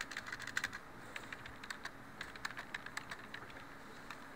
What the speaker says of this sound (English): Make sure you type it all in caps.